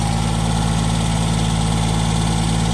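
A Bolens DGT1700 diesel riding mower with a 72-inch deck idles steadily, a loud, even engine drone with a low, regular throb and no talk.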